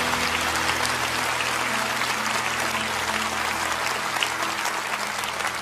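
A church congregation at a Spanish-language Christian service gives a dense, continuous round of applause, steady and fairly loud throughout, with no clear voices over it.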